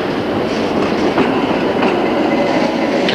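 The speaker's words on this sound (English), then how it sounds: "the two 1700 class locos that have got to take the trains to" 1700 class diesel locomotives hauling a branchline freight train near Charleville, Queensland, rumble steadily and loudly at close range, with rhythmic clickety-clack from the wheels and a faint squeal near the end, no voices.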